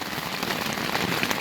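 Steady dense rain patters across a tent rainfly that is soaking through and leaking everywhere, a close, even hiss of drops with no gaps.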